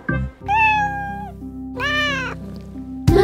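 A cat meows in a children's song, with two drawn-out, high, clear meows over a steady musical backing and a brief sharp sound at the close.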